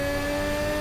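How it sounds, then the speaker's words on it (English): A Formula Hybrid X Evo 2022 race car accelerates, its engine making a steady, sustained droning whine that holds throughout the short stretch with no voices over it. "On the gas then, you can hear him really pull away in these wonderful Formula Hybrid X Evo 2022 cars."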